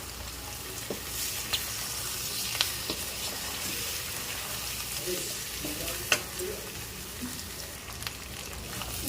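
Soft steady sizzle of chicken fry in a pan with coriander leaves added, punctuated by occasional scraping and tapping as it is stirred with a utensil.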